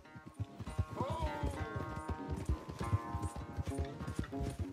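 A horse gallops in Red Dead Redemption 2, hooves pounding in a fast, steady rhythm of close, loud clip-clops throughout, with a faint whinny-like tone early on.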